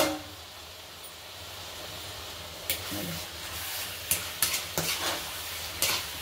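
Carrot halwa with fried dry fruits sizzles softly in a pan as it is stirred, a low frying hiss punctuated by several sharp scraping strokes of the spoon, growing busier toward the end.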